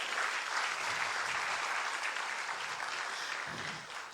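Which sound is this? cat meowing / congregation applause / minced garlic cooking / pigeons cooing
congregation applause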